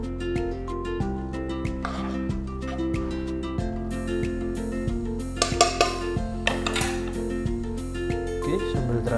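Sambal terasi with lime stirred in a pan after the heat is turned off: a utensil clinks and scrapes against the pan in scattered taps over steady background music.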